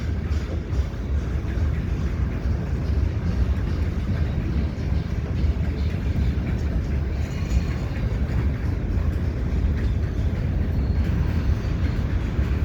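A CN freight train rolls across the Lachine Canal Bridge in St Henri in winter, a steady, loud rumble and clatter of wagons that holds unbroken from start to finish with no voices.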